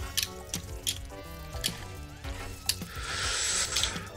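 Watery splashing and dripping in the Out of Space video game, busy and fairly close, with a hissing spray swelling toward the end over layered game tones.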